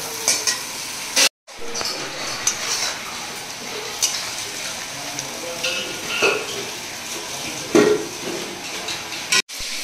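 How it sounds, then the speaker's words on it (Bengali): Spices with Kashmiri chilli, red chilli, turmeric, coriander, tomato, green chilli and garlic paste frying in a pan, continuous sizzling with spatula scrapes and occasional clinks, close up and unaccompanied by speech. "কাশ্মীরি লঙ্কা, লাল লঙ্কা, হলুদ, ধনে আর টমেটো, কাঁচা লঙ্কা, রসুন বাটা দিয়ে এবার ভাজা ভাজা করে"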